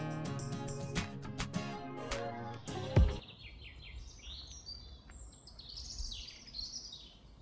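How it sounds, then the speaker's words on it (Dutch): Birds sing and chirp in the Keukenhof forest in spring, several high twittering calls scattered across a soft, quiet woodland background after a brief burst of music at the start. "Je hoort de vogels zingen."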